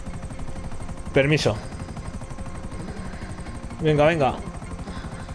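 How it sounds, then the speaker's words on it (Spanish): A helicopter in GTA V flies with a steady rapid rotor chop that pulses throughout, as two short bursts of speech rise over it. "Tú puedes, helicóptero de juguete."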